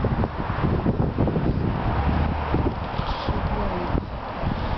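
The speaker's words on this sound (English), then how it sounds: "so thanks for the wind" Gusting outdoor wind buffets the microphone in Henley with a steady roaring rush and low rumbling thumps, loud and continuous throughout with no clear voices.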